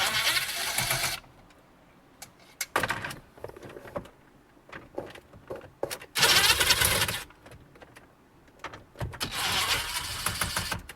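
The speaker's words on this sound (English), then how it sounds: "Again, you can do this with hand tools. It's just a lot faster with an impact like this." An impact driver loosens screws from a Ford Super Duty dashboard in several loud bursts of rattling hammering, separated by quieter stretches of handling and clicks.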